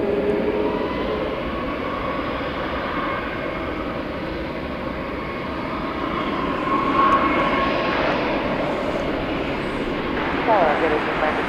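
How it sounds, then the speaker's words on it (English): An Airbus A321 arrives at DFW Airport at night, a steady, distant jet engine rumble and whine that swells slightly toward the end, with voices talking over it. "An Airbus A321."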